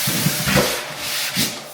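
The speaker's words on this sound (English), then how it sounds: "what I like to do from here is I grab my sander" A power sander grinds steadily across dried drywall joint tape, a loud continuous abrasive rasp with slight swells in pressure and no talking.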